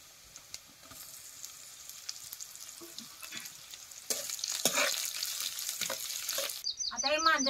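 Mande roast in oil in a pan over a village chulha while cooking mutton sukka. A low crackle swells midway into a louder, busier sizzle with stirring scrapes, and a bird chirps briefly at the end.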